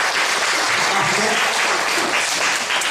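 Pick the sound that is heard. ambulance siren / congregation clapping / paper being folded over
congregation clapping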